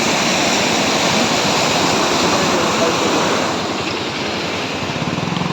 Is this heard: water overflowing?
yes